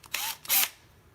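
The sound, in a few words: power drill at lowest torque screwing headstrap knob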